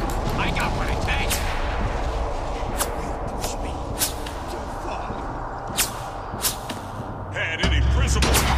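Gunfire in the video game BioShock Infinite: Burial at Sea, heard as scattered sharp shots cracking out over several seconds amid dense game noise and a low rumble, with a heavier burst near the end.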